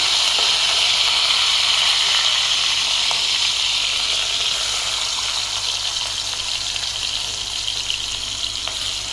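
Cumin seeds and curry leaves sizzle in hot oil with asafoetida for a tempering, a loud, steady, close hiss of frying that holds without a break throughout.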